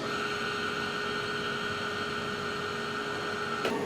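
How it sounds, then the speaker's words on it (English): A three-phase induction motor runs steadily after being started by push button, giving a constant electrical hum with a high whine, alone and without voices until a brief click near the end. "now you can see here, now my motor is going forward direction"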